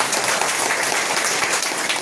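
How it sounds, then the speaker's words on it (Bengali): An audience applauds a guest with dense, steady clapping from many hands throughout the short stretch. "ওনার আমাদের পক্ষ থেকে ওনার একটা হাততালি দেওয়া উচিত"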